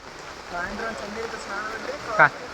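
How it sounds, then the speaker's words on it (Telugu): Steady rain falls on the path near Chakra Theertham in Tirupati, a soft continuous patter with one brief louder splash near the end, under faint voices. "ఇంకా వర్షం పడుతుంది."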